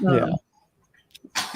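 A short word is spoken, then after a brief pause a single sharp, close sneeze bursts out.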